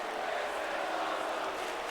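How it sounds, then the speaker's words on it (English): Wrestling crowd at a pay-per-view event chanting in unison, a dense, steady roar of many voices filling the arena with no break. "This is awesome chant breaks out again."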